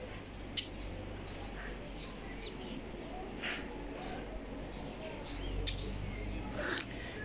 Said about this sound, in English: You can hear the birds chirping.